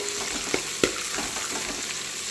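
Ingredients frying in oil with a little ghee for a tomato pulao with amaranth greens, a steady close sizzle with a couple of sharp stirring knocks and no talk.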